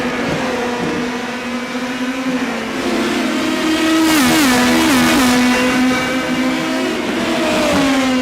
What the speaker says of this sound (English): I'm going to hear race car noises in my sleep tonight